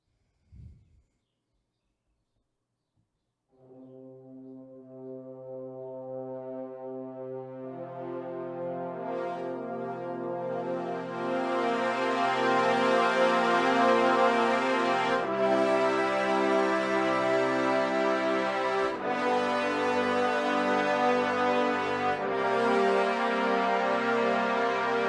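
A brass sample patch from Palette by Red Room Audio swells from a soft low chord into a loud, bright sustained ensemble, with a few abrupt chord changes after a brief initial knock.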